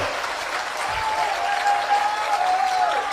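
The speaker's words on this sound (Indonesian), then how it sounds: "Ini yang tepuk tangan" A crowd at an Islamic haul commemoration applauds during a sermon, with dense, even clapping and a faint steady tone running through it.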